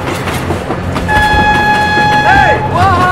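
A passing train in a vehicle crash game rumbles loud and close with clattering wheels, then blasts its horn in long sustained tones with a bending pitch near the end.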